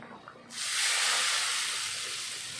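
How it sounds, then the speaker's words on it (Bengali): Hot mustard oil tempered with cumin and bay leaf is poured over a taro and fish curry, setting off a sudden loud sizzling hiss that slowly eases while it keeps crackling. "এখন আমি এই তরকারির উপরে ঢেলে দেব।"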